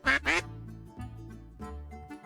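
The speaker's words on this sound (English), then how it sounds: "Oh, I thought that was the duck and not Odysseus" A duck quacks loudly up close, two sharp quacks followed by a few longer, lower nasal calls, with no talk.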